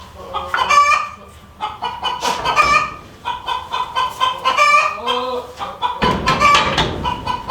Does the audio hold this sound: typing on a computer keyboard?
no